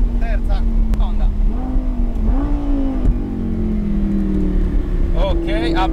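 A race car circles the Autodromo Mores track, its engine revving steadily and climbing in pitch as it accelerates through gear changes. It sounds close and continuous, with a voice calling out over the engine.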